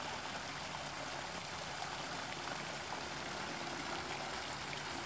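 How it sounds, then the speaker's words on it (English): A waterfall and flowing stream give a steady, broadband rushing wash that stays even and unbroken throughout, with no voices over it. "and the waterfall."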